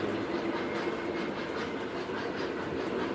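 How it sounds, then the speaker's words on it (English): Continuous low rolling and light clickety-clack from model trains circling an O-scale layout, quiet and even throughout with slight pulsing, no voices. "We'll watch the trains go from here."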